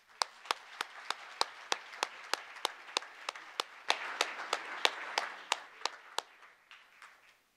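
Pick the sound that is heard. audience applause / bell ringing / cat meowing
audience applause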